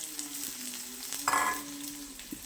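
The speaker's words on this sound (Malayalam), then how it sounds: "ഒരു തണ്ട് കറിവേപ്പില ഇട്ട് നന്നായിട്ട് അതൊന്ന് വഴറ്റാം" Onion, ginger, garlic and green chili sautéing in a pan, a close, steady oil sizzle with a brief louder crackle midway and faint scraping stirs, no voices.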